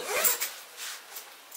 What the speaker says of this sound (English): that's the wrong zipper